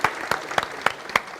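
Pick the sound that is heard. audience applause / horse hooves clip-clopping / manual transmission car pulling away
audience applause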